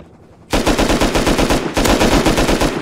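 Rapid automatic gunfire in the survival game Rust bursts in after a quiet moment, a loud, close, steady stream of shots with a brief break before continuing.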